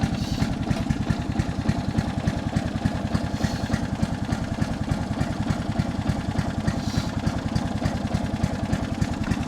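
A vehicle engine runs steadily while the car is driven in third gear, a close, even low-pitched rumble with fast regular firing pulses throughout and no voices.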